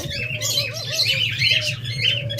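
Lovebirds and budgerigars in a pet bird shop chirp and tweet in overlapping busy bursts, close and fairly loud, over a low steady background hum.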